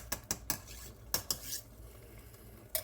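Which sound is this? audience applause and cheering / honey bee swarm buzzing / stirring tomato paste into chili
stirring tomato paste into chili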